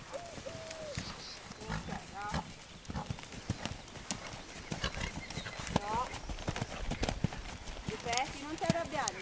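Horse hooves clip-clop on the ground during a show-jumping lesson, steady rhythmic hoofbeats close by with whinnies and snorts, while an instructor talks over them.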